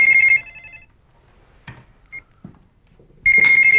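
A telephone rings loudly in a domestic setting in an Iranian film, two bursts of ringing separated by a quiet stretch with small handling noises.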